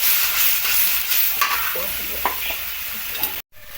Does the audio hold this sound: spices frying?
yes